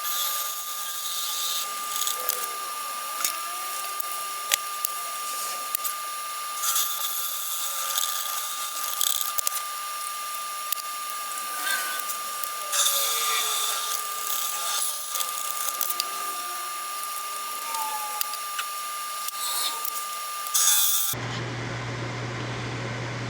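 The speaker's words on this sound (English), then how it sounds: "I just got finished using the Forstner bit" Steady mechanical whine of a Forstner bit boring into cherry wood, continuous with shifting pitch, then an abrupt cut to a different low hum at the end.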